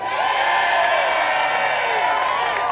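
A rally crowd of state employees, mostly dressed in red, cheers, whoops and claps continuously at an education rally in Olympia, a loud, dense roar with shouts rising over it throughout.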